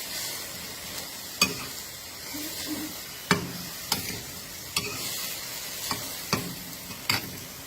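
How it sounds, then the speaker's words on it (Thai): Lotus stems and chili stir-fried in a pan: a steady low sizzle broken by sharp, irregular scrapes and clacks of the spatula, about once a second, close and alone. "ตอนนี้เราจะผัดนะคะ"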